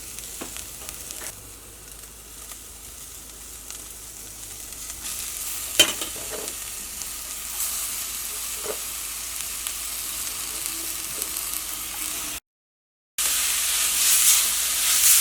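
Grated papaya and carrot stirred and fried in a pan for masala vada, a soft continuous sizzle with occasional scrapes and clinks of a spoon, close and unvoiced, rising slightly toward the end after a brief silent gap.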